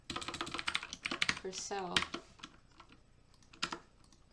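Clatter of typing on a computer keyboard at a desk while coding a FACS rig, quick uneven keystrokes mixed with a man's speech, then a few isolated taps.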